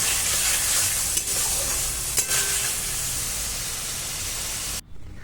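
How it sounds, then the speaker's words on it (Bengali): Potato and eggplant sautéing in a pan with salt and turmeric: a steady, close, loud sizzle with a couple of sharp scrape clicks, cutting off abruptly near the end. No talking. "লবণ হলুদ গুঁড়ো দিয়ে আমি আলু বেগুনটাকে আবার কষিয়ে নিচ্ছি"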